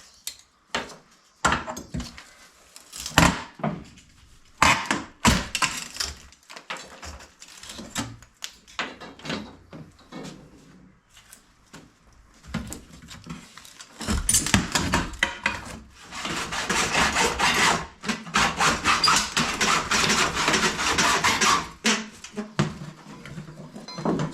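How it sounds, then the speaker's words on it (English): Removing a patio slider door by cutting it loose with a hacksaw gives irregular knocks, scrapes and rattles of the door and frame, then a denser stretch of rasping, grinding strokes midway, all near and fairly loud. "just that little bit of hacksaw made it come loose"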